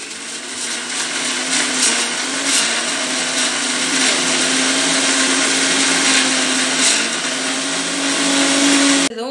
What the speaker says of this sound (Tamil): இதையும் நம்ம இந்த மசாலா கூட சேர்த்து அரைக்க போகிறோம்